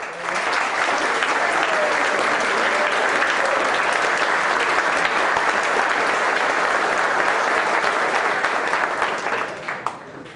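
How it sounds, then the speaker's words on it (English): Sustained, loud audience applause for the Nationals at a school assembly, dense even clapping holding steady for about ten seconds before tapering off. "think that the Nationals need a round of applause for how you conducted yourself."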